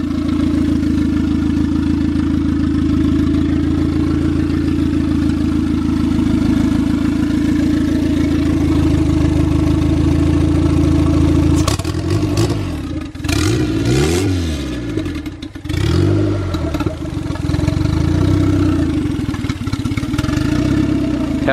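Turbocharged Honda EJ1 engine with a VTEC head swap idles steadily and close by, a continuous mid-pitched drone, with a few brief blips and disturbances partway through.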